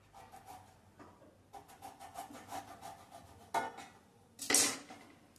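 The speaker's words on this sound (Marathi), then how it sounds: "हा वरचा जो देठाचा भाग आहे हा कापून टाकायचा, काढून टाकायचा आहे आणि साल काढण्याने साल पण काढायचं आहे" Knife trimming the stem end off a raw green mango, then a peeler scraping away its skin in a series of close, dry rubbing and rasping strokes, ending in a louder scrape.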